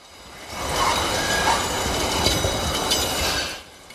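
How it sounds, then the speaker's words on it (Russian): Renovated, frost-covered metro train cars arriving by rail in Samara after a full upgrade, a loud steady rumble of rolling wheels with faint squealing and clicking, swelling in and fading at the end. "Яркие, слегка покрытые инеем, обновленные вагоны прибыли в пункт назначения Самару"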